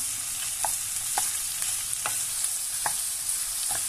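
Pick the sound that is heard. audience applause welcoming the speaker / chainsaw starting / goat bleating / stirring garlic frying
stirring garlic frying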